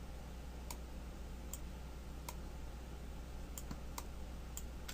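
Sharp, faint mouse clicks tap at irregular intervals, about seven in a few seconds, while control-clicking on the timeline in MAXON Cinema 4D, set against a low steady hum.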